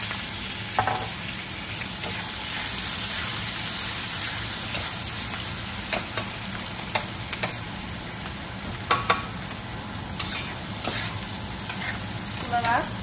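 Large-cut onions frying on high heat for a Bangladeshi-style Chinese dish, a steady loud sizzle with frequent sharp spatula scrapes and clicks against the pan.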